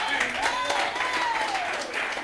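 A church congregation applauds in a steady wash of clapping, with a voice calling out over it at a sustained pitch during the applause.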